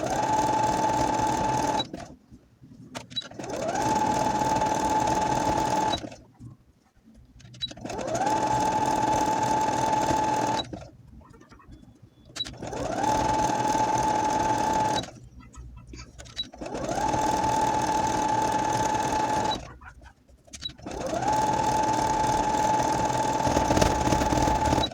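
A sewing machine stitches elastic onto high-waisted panties in five rapid whirring bursts separated by brief pauses, each run a steady, close mechanical rattle.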